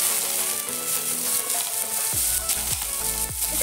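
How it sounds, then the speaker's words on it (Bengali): Potatoes tipped into hot oil with fried panch phoron burst into a loud, steady sizzle, bubbling close and continuous with a few stirring scrapes. No one talks. "পাঁচফোড়নটা ভাজা ভাজা হয়ে গেছে। এবার আমি এতে দিয়ে দেবো সবজিগুলো। প্রথমে দিয়ে দিচ্ছি আলু।"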